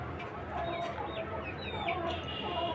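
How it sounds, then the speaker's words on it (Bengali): Native chickens kept in a small cage inside a small room on a farm cluck and squawk continuously at close range, with several overlapping calls. "এই ঘরের মধ্যে এই যে ছোট খাঁচার মধ্যে কিছু মুরগি আছে।"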